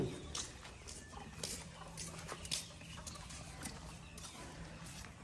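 Chickens in a poultry farm shed cluck and call in a busy, overlapping chorus, faint and spread throughout, with scattered patters and rustles from the birds.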